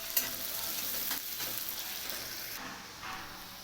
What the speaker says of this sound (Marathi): कांदा भाजून घ्यायचा चांगला. कांदा असा लालसर होईपर्यंत भाजून घ्यायचा.